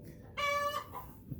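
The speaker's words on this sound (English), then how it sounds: "Sounds like one of my chickens just had an egg" A backyard hen squawks a short, loud burst of clucking after laying an egg, heard close and alone over quiet surroundings.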